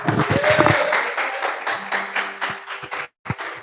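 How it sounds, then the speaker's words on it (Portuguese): A church congregation claps together, a dense, steady patter filling the space beneath sustained tones from a voice or instrument, thinning out near the end. "Vamos receber o servo do Senhor com as palmas que engrandecem o nome de nosso Senhor e Salvador."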